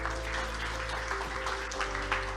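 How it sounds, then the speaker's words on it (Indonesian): An audience applauding at a political speech event, a dense, even wash of clapping that holds steady throughout with a low background hum. "mari kita memberikan aplaus penghargaan kepada"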